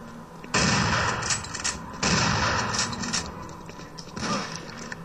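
Gunfire in a Doom 3 mod shooter game, two loud bursts of heavy rapid shots with a short pause between them and a third, weaker burst near the end.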